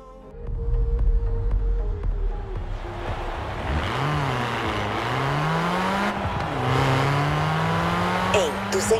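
Racing cars in Forza Horizon 4 roar continuously, engines revving and shifting through rising and falling pitch sweeps with occasional tire noise, loud and close throughout.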